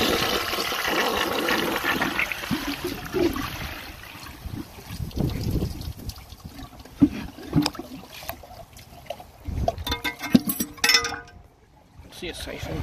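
A 1960s Compton Standard toilet flushes with a rushing, gurgling swirl of water that runs for several seconds, fairly close, with a person talking over part of it before the flow trails off into trickles.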